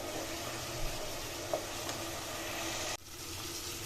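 Tomato and onion paste sautéing in a pan for a mutton curry gives a steady, broadband sizzle throughout, with a faint tap near the middle and a brief drop and shift near the end.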